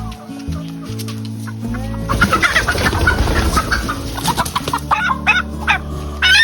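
A big old hen on a mountain farm clucks loudly and close by in quick, repeated bursts. A low steady hum runs underneath, and a few sharper calls come near the end.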